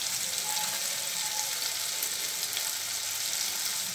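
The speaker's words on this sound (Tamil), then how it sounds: "நல்லா வதக்கிடலாம். தக்காளி நல்லா வதங்கிச்சு." Tomato with chili powder and turmeric sautéing in a pan for carrot rice gives a steady, close sizzle of frying that holds evenly throughout, with no talking.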